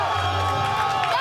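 A crowd at a state powerlifting championship cheers on a lifter pulling a 540-pound deadlift, a loud, dense burst of shouting and whooping with a commentator's voice running over it.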